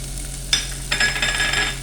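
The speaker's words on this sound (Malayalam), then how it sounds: "ഇതെല്ലാം കൂടെ നന്നായിട്ടൊന്ന് ഇളക്കാം. സവാള ഒരുമാതിരിയൊക്കെ ഒന്ന് വഴന്നാൽ മതി." Sliced onions and slit green chillies sautéing in oil in a pan, a low steady sizzle broken by a couple of quick stirring scrapes, close by.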